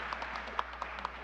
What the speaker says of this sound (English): Round of applause for that side of the sanctuary.